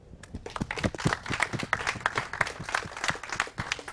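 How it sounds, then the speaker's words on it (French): Audience applause for the winner of the Mon île et ailleurs contest at a live TV studio event, with scattered, uneven claps that are fairly sparse rather than a dense ovation, continuing steadily for several seconds. "je vous demande de l'applaudir puisqu'elle a gagné ce concours"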